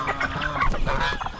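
Chickens clucking on a farm with turkeys nearby, a dense, loud cluster of close clucks and short squawks in quick succession.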